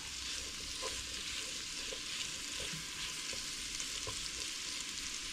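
Meat browning alongside sausage in a frying pan makes a constant, moderately loud sizzle, with faint intermittent clicks and scrapes of stirring and no voices.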